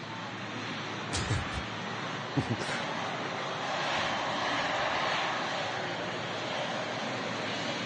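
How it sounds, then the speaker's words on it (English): Boeing 777 airliner engines at Manchester Airport make a steady, broad jet roar that holds from start to finish. A couple of brief thumps cut through it near the start. "Just look at the sheer size of this 777"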